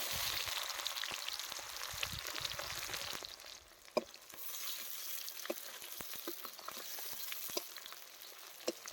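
Sliced onions sizzle and fry in hot oil with cumin, dried red chilli, bay leaf and garam masala, a quiet, steady crackle with occasional stirring clicks and no talking.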